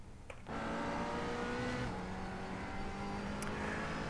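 A McLaren 570 at full throttle on the Bathurst circuit in a racing game roars loud and steady after a brief lull, its engine note holding high and sustained with a faint tyre squeal, with no talking.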